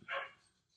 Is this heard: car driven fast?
no